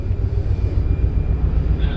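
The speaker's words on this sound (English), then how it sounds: "The helicopters will be out for another 20 minutes gathering imagery." Helicopters flying near the Artemis I crew module during splashdown recovery, a steady low rotor and engine rumble that fills the whole clip, fairly close and continuous.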